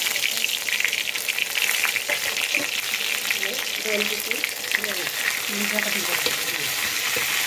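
Spices crackle and sizzle in hot oil in a heated wok, tempering for instant dhokla in Vidarbha style; a steady dense frying hiss runs throughout, close and fairly loud, with faint speech in the background.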